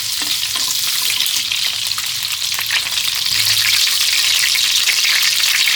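Thai garlic being fried in a pan for garlic shrimp, a continuous dense sizzle with scattered stirring scrapes throughout, close and fairly loud, with no speech.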